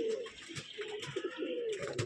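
Low, throaty cooing rises and falls from a group of Andhra breed pigeons in a breeding loft, several birds calling at once close by, with scattered rustling and small knocks mixed in.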